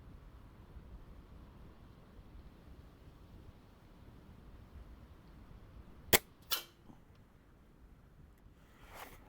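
A single air rifle shot fired at a target 55 yards away outdoors rings out as one sharp crack, followed by a softer second report, against faint wind and otherwise quiet surroundings.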